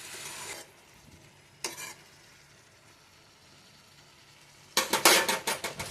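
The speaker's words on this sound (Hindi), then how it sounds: "हरी मिर्ची 3 चीज़ और मेथी का तड़का" Fenugreek tempering with green chillies, salt and turmeric stirred in a pan, heard as scraping bursts at the start, again briefly near two seconds, and in a loud rapid flurry toward the end, with faint sizzling in the quieter gaps.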